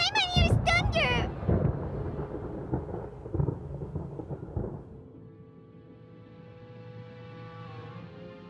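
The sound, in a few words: thunder in Genshin Impact video game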